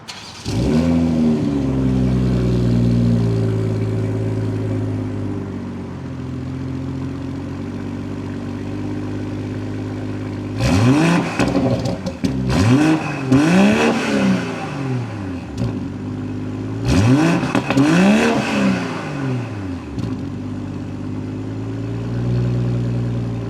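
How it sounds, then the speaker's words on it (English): Exhaust of a 2025 BMW M240i xDrive idling steadily, then revved hard in two separate sets of sharp, rising and falling blips, loud and close with no talk. "let's go ahead and actually hear how that sounds"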